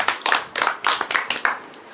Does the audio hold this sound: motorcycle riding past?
no